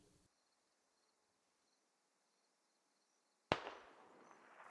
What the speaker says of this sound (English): someone took a shot